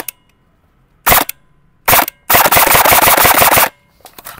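A Lancer Tactical MCA13 G2ME airsoft gun fires loud, close bursts: two short rattles, then a sustained full-auto burst of over a second, then a brief trailing burst, with no talking.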